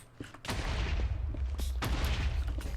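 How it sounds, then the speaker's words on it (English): A cannon fires in a video game tournament match. Two heavy booms land about a second apart, each followed by a rumbling, crackling tail. "Oh, cannon kill, nicely done by Chris."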